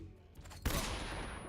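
A stun grenade bursts in Metal Gear Solid 3: Snake Eater, a sudden loud blast after a quiet moment, followed by a sustained bright roar and a high ringing tone.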